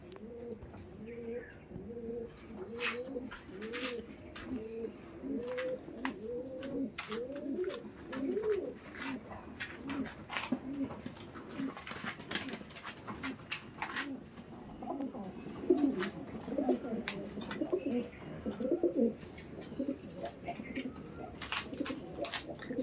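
Andhra Kaldom pigeons coo in repeated, rolling phrases throughout, several birds overlapping at close range, with occasional sharp clicks and faint chirps in the background.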